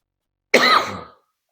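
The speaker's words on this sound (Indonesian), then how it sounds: "saya 2 hari ini kena batuk." One sharp, close cough bursts out once from a man with a cold during a religious lecture, then fades within about half a second into silence.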